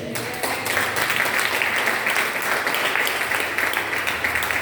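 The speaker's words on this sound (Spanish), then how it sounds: "Denle un aplauso al Señor" A church congregation applauding during a sermon on the gospel of grace, a dense, loud, continuous roar of clapping that starts abruptly and holds steady throughout.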